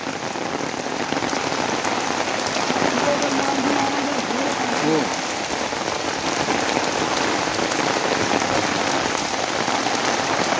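Heavy rain pours down steadily outdoors beside a pond, a loud, dense hiss of drops drumming on surfaces with no break across the whole stretch.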